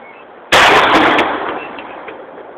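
A single gunshot cracks out while shooting outdoors, a sudden loud close blast followed by a decaying echoing rumble that fades over about two seconds, with no talk.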